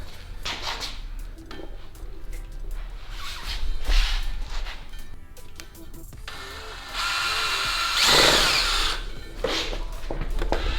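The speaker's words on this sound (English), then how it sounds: "So I always start with a smaller drill bit just to get it located." A power drill with a small pilot bit whirs in repeated short bursts, then runs louder and steadier with a high grinding whine as the bit bites in.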